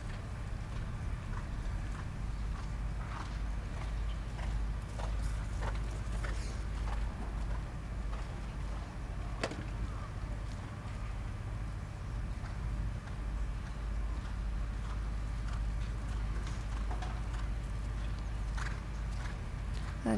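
A horse canters through a stretching-canter movement in a dressage test at Badminton 2024, its hoofbeats a faint, steady clip-clop in a quiet arena with a low background hum.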